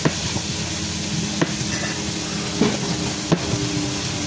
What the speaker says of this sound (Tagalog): siya nagpiprito ng isda.